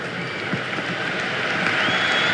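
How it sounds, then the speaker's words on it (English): Steady applause and crowd noise from a cricket stadium audience in the Cricket 26 video game, a broad continuous wash at moderate loudness without any clear voices. "There's an almost tangible fervour throughout the crowd at the moment."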